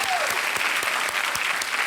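Studio audience applauding on an Indian television quiz show, a steady dense wash of clapping that holds at full loudness throughout, with no voices rising above it.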